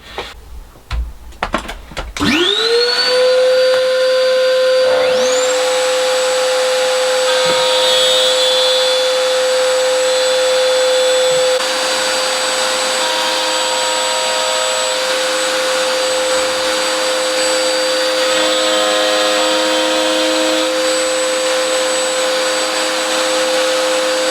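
A router cuts a 5mm groove into an 18mm piece of timber at a workbench, starting with a few knocks before the motor spins up to a loud, steady high whine that holds for about twenty seconds.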